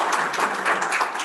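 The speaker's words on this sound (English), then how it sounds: "Let's give him a round of applause." A short burst of crowd applause, many hands clapping together in a dense, even patter that fills the room.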